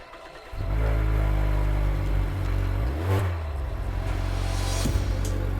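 A 2020 Mazda 3 hatchback engine heard from inside the cabin on the road, a steady low hum that rises at the start and holds with slight pitch shifts, no voices.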